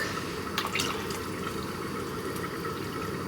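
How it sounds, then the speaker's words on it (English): Coconut milk poured from a tin into a pot of bone broth, a soft steady liquid pour and trickle with a few faint drips, close and quiet against a low kitchen background. "I'm going to add about 2/3 of a tin of coconut milk."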